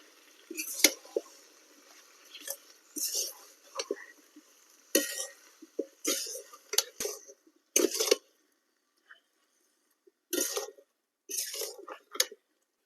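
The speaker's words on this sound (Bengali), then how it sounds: "এবারে গুড়টার সাথে কুলটা খুব ভালোভাবে মিশিয়ে নেব।" Soaked jujubes are stirred into melted jaggery for a pickle, giving intermittent sticky scraping and stirring bursts, close and moderately loud, separated by short quiet pauses.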